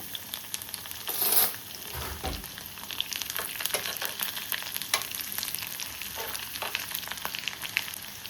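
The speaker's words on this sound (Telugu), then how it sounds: "వెల్లుల్లి బాగా వేగిందండి" Steady crackling sizzle of garlic frying in hot oil, with occasional sharper pops and a brief scraping stir near the start.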